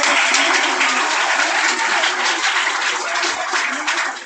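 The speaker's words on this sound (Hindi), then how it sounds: "जोरदार तालियों से स्वागत करें।" Dense, steady applause from an audience at a school Hindi Day celebration, a loud continuous wash of many clapping hands that holds throughout and fades slightly at the end.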